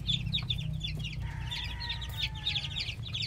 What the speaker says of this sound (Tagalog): Ito po yung example po ng mga sisiw namin.